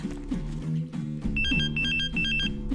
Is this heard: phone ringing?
yes